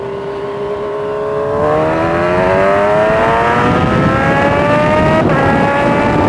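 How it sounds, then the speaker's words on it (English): A Kawasaki Ninja H2 motorcycle engine pulls hard through its gears: a loud, close, rising howl whose pitch climbs steadily, then drops briefly at each smooth upshift before climbing again, with no voices. "It just goes through the gears. The gearbox is totally smooth."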